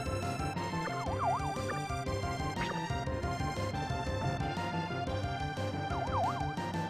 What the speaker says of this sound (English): that sound is the low HP sound